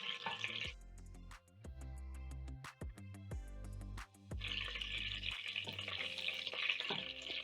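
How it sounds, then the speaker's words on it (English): Whole spices, including cardamom pods and a bay leaf, toast in a pan with a soft sizzle and crackle, heard at the start and more steadily toward the end beneath loud, prominent background music. "Toast your spices for around a minute."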